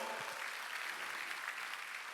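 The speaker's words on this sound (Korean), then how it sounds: "박수치고" A church congregation at a Sunday worship service claps together, a soft, steady wash of applause heard at a distance for a couple of seconds.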